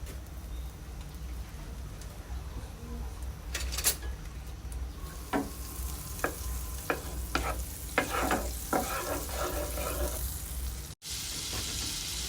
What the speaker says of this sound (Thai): เดี๋ยวเราก็จะมาทอดปลานะคะ กระทะตั้งไฟเอาเนยใส่ค่ะ